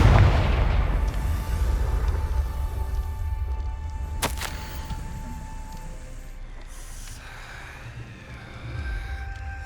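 A Confringo blasting curse in the Hogwarts Legacy video game goes off as a deep rumbling boom at the start, followed by a sharp crack midway and a fading low rumble, with no talk.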